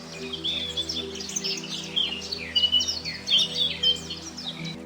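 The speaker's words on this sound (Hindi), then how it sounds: "सुबह होते ही जंगल में पक्षियों की मधुर आवाज गूंजने लगती थी।" Many birds sing in a forest at morning, with bright overlapping chirps and whistles repeating throughout over a low steady background hum.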